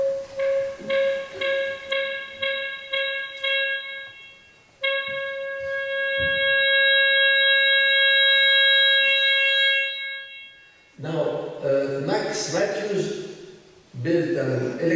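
Additive-synthesis imitation of brass playing a crescendo that grows brighter as it gets louder: sustained harmonic tones, steady and close, followed by a burst of denser, noisier sound near the end.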